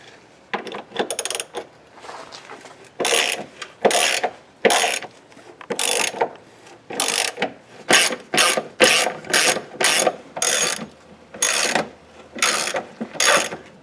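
A hand ratchet clicks rapidly in short, repeated bursts while loosening 15mm bolts on a Jeep transmission crossmember, each burst separated by a brief pause, close and clear with no talking.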